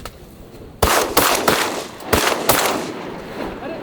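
Shotgun blasts during a duck hunt in strong southerly wind, about five loud, close reports spaced irregularly over a few seconds with windy noise between them.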